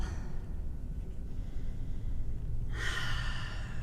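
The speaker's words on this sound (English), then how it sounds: "Just taking a few very intentional deep rounds of breath" During a yoga flow, slow, deep, deliberate breathing ends in one long, audible exhale that sounds like a sigh. It is close and soft over quiet room tone, with no talking.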